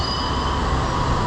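A train in Bangkok rumbles steadily nearby, with a broad, continuous roar of wheels on rail and a faint squeal riding on top throughout.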